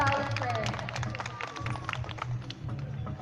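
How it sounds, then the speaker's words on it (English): A crowd applauds sea lions at an aquarium show at Manila Ocean Park, scattered claps mixed with loud crowd chatter and a low rumble of background noise. "round of applause for sea lion friends"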